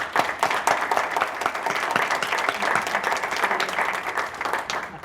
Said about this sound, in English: Round of applause for our people.